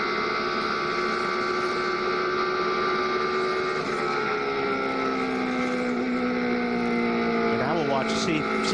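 A NASCAR stock car engine drones in 3rd gear during the 2003 Pennsylvania 500, a loud sustained steady tone with faint wind noise and a brief shift in pitch near the end.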